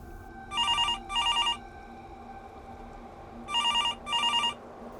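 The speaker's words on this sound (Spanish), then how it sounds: "Un martes por la mañana, a las 11 en punto, fue que el teléfono sonó." A telephone bell rings in two double bursts, a pair of rings near the start and another pair about three seconds later, clear and fairly loud over a low steady background hum.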